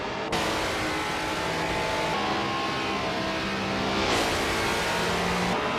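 A 1973 ARC MF16 vintage ultralight race car in a video game race, a continuous loud engine drone with rising and falling revs as gears shift, close and steady throughout.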